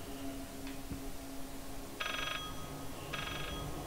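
A telephone rings inside a house in the horror game Layers of Fear, giving two short electronic trills about a second apart, moderately loud over a low ambient hum.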